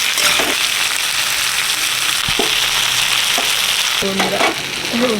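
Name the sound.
sautéing potatoes and eggplant in pan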